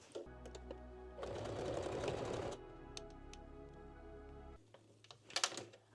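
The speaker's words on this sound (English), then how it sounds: "I'm using zigzag stitch again and back stitching on both edges" A home sewing machine runs a zigzag stitch with backstitching on the edges of a bikini top's ruched front, whirring steadily in a short burst amid quieter mechanical clicks and a low motor hum, near and fairly soft.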